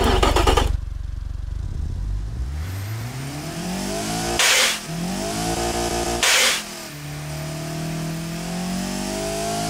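A virtual car engine in the Automation building game, an economical unit peaking near 6,700 RPM with a variable valve lift profile, revs up and down repeatedly; rising and falling tones with two short bursts, loud and alone.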